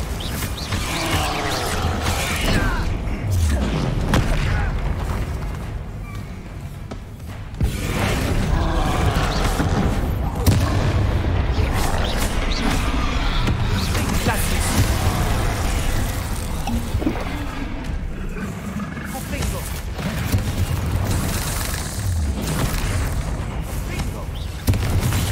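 Blasting spell explosions in a Harry Potter video game: heavy, continuous booming and crashing impacts with rumbling debris, loud and dense throughout with almost no pause.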